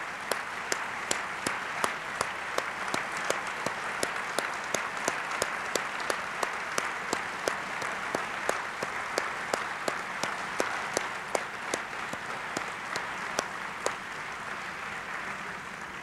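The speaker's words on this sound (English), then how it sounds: "join me in one last round of applause for all of the donors today" Audience at a university groundbreaking ceremony for Weill Hall, with President Gerald Ford, applauding donors; sustained, fairly faint clapping from a crowd outdoors, steady rapid patter with sharp individual claps standing out, lasting the whole stretch.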